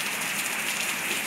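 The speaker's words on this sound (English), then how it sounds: "You can see right now also it has been raining." Rain falls on soil in a steady, dense hiss of drops throughout a short stretch, close and fairly loud, with no voices.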